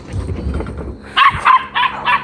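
A farm dog barks four times in quick succession, loud and close, after a stretch of low rumbling background noise with no talk.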